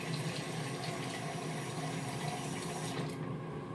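Half a cup of water pours steadily into soy sauce for a wing glaze, a continuous close splashing stream that runs alone and then cuts off near the end.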